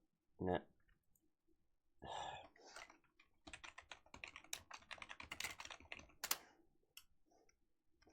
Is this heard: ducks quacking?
no